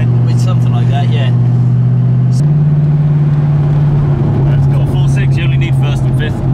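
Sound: car with 3.5 litre V8 engine revving

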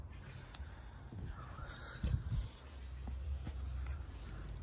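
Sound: bird calling

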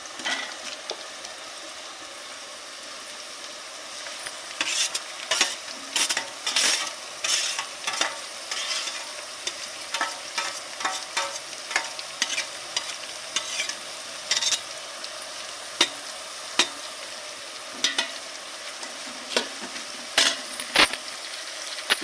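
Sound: frying onions with carrot, tomato, mint and coriander

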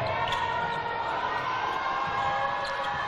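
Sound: crowd applause and standing ovation at a netball game

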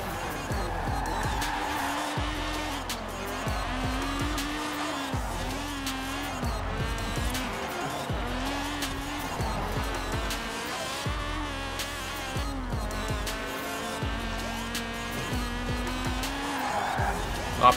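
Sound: Honda Civic driving in video game Forza Horizon 4

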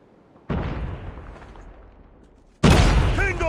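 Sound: frag grenade explosion in a video game

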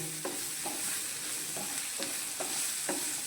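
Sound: spices roasting in a pan on low gas flame

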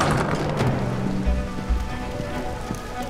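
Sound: rain in a video game

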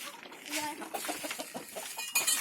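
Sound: chickens clucking

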